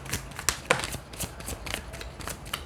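A deck of tarot cards is shuffled by hand in a series of quick, crisp riffles and flicks, close and fairly loud with an uneven rhythm and no voice over it.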